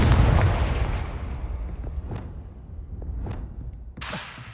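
A Confringo blasting spell from Hogwarts Legacy goes off with a loud booming burst that rumbles away, then several sharper follow-up pops and a fresh bright blast near the end.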